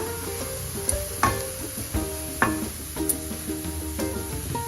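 Grated fresh coconut sautéed and stirred in a pan over low to medium heat, a soft steady sizzle with scattered scraping knocks of the spoon against the pan, close and moderately quiet.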